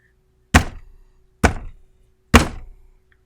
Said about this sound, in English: trying to drown out the tapping noise